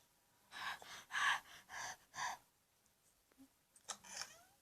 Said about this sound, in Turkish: Oyundaki karakter de oyuna başlayınca nefes alma sesi duyuluyor.